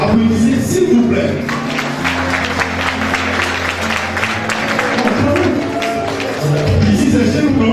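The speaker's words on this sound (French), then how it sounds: "Je vous demande d'applaudir s'il vous plaît." An audience at the official launch of a 2013 crafts fair applauds steadily, dense continuous clapping filling the space, with a voice over a sound system talking through parts of it.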